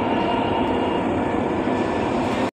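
Inside a moving Dubai Metro train heading for Jebel Ali, a loud, steady rumble and rushing hum fill the whole clip without a break before cutting off abruptly at the end, and no one speaks.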